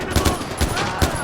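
Rapid gunfire in the Far Cry 4 video game, a loud fusillade of several bursts with a steady mid-level background bed, no talk over it.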